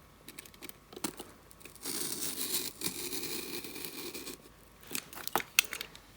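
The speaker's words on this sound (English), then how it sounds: "I'm going to be doing it by cutting them out while they're still all attached to the cardboard." Scissors snip and crunch through a sheet of cardboard, cutting out small wedge shapes still attached to the board; close, crisp irregular cutting and tearing sounds, denser in the middle, with no talking.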